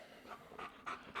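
A large dog pants in quick, breathy bursts, about four rasping exhales over a second, close by and fairly quiet with no talking.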